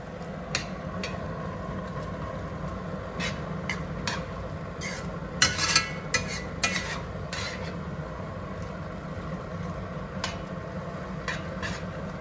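Carbonara pasta being stirred and mixed in a pan, with soft scraping and clinking of utensils against cookware over a steady background hiss, a few sharper taps standing out.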